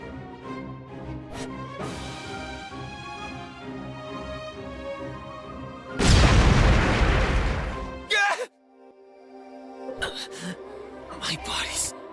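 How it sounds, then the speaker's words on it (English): Fire magic crystals explode in the Re:Zero video game with a loud, roaring blast of about two seconds, preceded by softer musical tones and followed by a sudden drop, then faint rumbling and brief sharp bursts. "Rem, did the magic crystals explode?"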